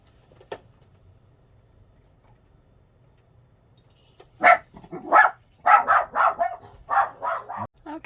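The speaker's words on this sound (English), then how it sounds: "dogs are done barking" Several dogs bark in a rapid, loud cluster of sharp barks after a quiet stretch, ending abruptly.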